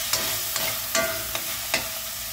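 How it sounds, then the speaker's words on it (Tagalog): Food being sautéed in a pan, a steady broadband sizzle running throughout with a few sharp scraping stirs of a utensil against the pan at irregular intervals, close up and with no talking. "medyo gigisahin lang natin siya ng konti"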